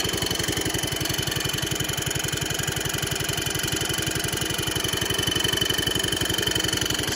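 A 1970 140 H3 engine runs steadily after repair, a fast, even pulsing idle held close and loud throughout with no talk.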